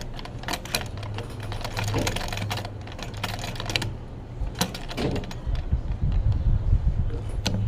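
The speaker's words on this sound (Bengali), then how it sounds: "পরবর্তীতে আমি আবার আরেকটা সেলাই দেব দেখেন কিভাবে সেলাইটা দিই" A domestic sewing machine stitches a hijab face mask in rapid rattling bursts, pausing between runs, over a steady low motor hum, close and fairly loud.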